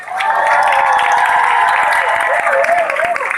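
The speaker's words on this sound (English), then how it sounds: "I want all the female graduates here to applaud themselves." Graduates at a National Open University of Nigeria graduation ceremony applaud, a dense, steady wash of crowd clapping in a large hall, loud and continuous throughout.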